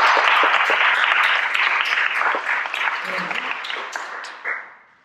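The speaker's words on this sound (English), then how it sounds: "let's give them a big clap." Audience clapping for musicians and their conductor at a community concert, loud and close at first, then thinning and fading out over about five seconds.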